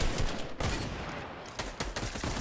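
Rapid bursts of gunfire from the Fortnite video game crackle loudly and almost continuously, with several sharper volleys standing out in a dense, noisy firefight and no talk over it.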